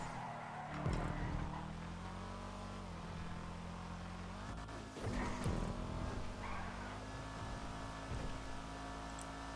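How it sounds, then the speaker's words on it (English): A car engine from Grand Theft Auto hums steadily at low volume, its pitch rising and dipping as the vehicle accelerates and eases off, with a couple of louder revving swells and no talk. "I'm hearing like the sound of a car driving"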